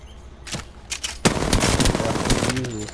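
Video game gunfire from hip fire and aim-down-sights shooting: a few separate sharp shots, then a loud, dense stretch of rapid automatic fire with a tonal ring near the end.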